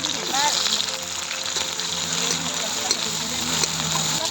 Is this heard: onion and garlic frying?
yes